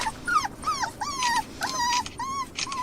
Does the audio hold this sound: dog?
yes